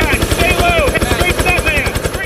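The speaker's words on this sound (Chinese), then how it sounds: "直升机破例停在460公尺高的狭窄山顶" A rescue helicopter lands on a narrow 460-metre mountaintop during a winter snowstorm in the United States, its loud, rapid rotor chop pulsing steadily close by with no break.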